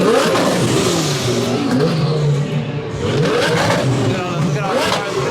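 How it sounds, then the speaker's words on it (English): A Lamborghini engine revs hard at a big car meet at a Dodge dealership, shooting flames from the exhaust. The loud, sustained roar runs throughout under excited crowd chatter and voices talking nearby. "they done fired up the Lambo. Oh, he got flames."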